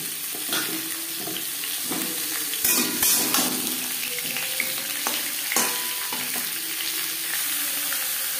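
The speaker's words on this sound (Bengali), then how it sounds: "জিরে তেজপাতা ভেজে নেওয়ার পর দিয়ে দেব পেঁপে" Papaya pieces fry in hot oil with cumin seeds and bay leaf, giving a steady broadband sizzle with occasional stirring scrapes and a few louder bursts, close up and continuous, with no talking.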